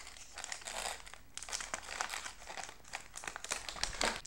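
Foil packaging around a Dilmah rose with French vanilla tea bag crinkles and rustles continuously up close, a busy, soft crackle with no talking over it.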